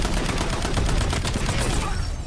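Rapid assault rifle fire in a video game firefight, a loud, dense stream of shots in quick succession that tapers off at the end.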